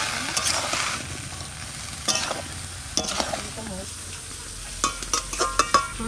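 Water lily stems stir and fry in a pan with a soft sizzle, while a utensil scrapes and clatters against the metal in irregular bursts throughout.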